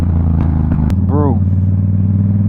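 A Yamaha MT-07 motorcycle cruising with a steady low engine drone and wind rumble, close and loud throughout, with a brief clack and a short voice rising over the engine.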